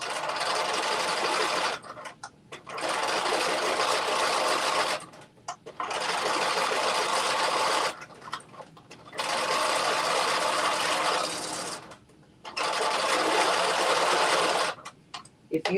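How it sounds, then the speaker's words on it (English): A sewing machine runs in bursts, stitching a rolled hem on a jumpsuit sleeve, each rapid close whirring run lasting a few seconds with short pauses between, and a voice speaking over parts of it. "So I'm doing my rolled hem on the sleeve."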